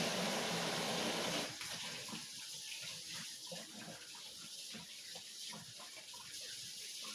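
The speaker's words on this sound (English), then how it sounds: "I am going to step over to the sink and rinse my hands" Water runs from a sink tap while hands are rinsed, a steady soft splash that drops in level after the first second and then continues with small irregular splatters.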